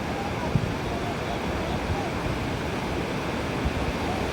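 Broad roaring surf rolls on continuously, the steady wash of waves with some wind buffeting, no clear voices.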